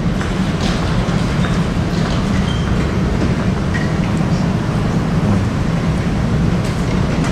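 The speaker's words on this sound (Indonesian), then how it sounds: "kita tiba di stasiun kereta bandara ya" An airport rail link train at the station, with a steady low rumble and rolling rail noise, faint squeaks and clatter on top, continuous and fairly loud with no talk.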